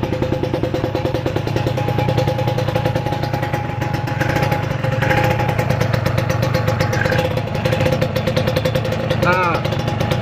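Kawasaki Ninja 150 two-stroke motorcycle engine running steadily during a radiator and cooling check, loud close idle with a constant rattling throb and slight mechanical clatter, a voice talking over it.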